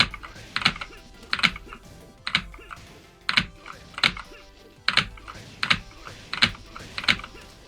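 Computer keyboard keys clatter during a game of Tekken, struck in quick clustered bursts roughly every second in a steady repeating pattern, close and fairly quiet with no talking.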